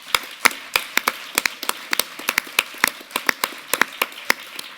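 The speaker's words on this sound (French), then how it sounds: "Je pense qu'on peut les applaudir aussi pour les remercier." Scattered, sparse clapping from a small audience at a French corporate talk on diversity and CSR, a few people slapping hands in an uneven rhythm of sharp, close claps with no voices.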